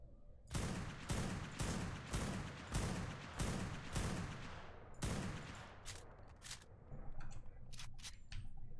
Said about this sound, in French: On continue à tirer.